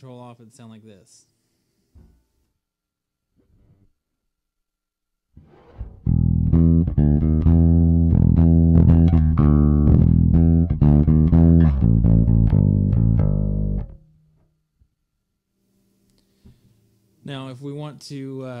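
Electric guitar played through an SM Promethean amp with the vibe control switched off, a clean-toned run of picked notes and chords lasting several seconds, loud and close, with brief talk before and after.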